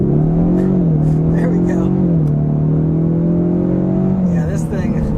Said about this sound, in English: let's do another acceleration in sport mode